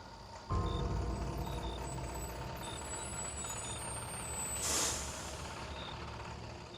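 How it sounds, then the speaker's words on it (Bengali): A bus engine rumbles low and steady, opening with a sudden onset, then a sharp burst of air-brake hiss near the middle as it pulls up, followed by the engine idling on; faint beeps are spaced through it. "বাসটা ইঞ্জিনের আওয়াজ কেমন যেন চাপা, অনেক দূর থেকে ভেসে আসছে"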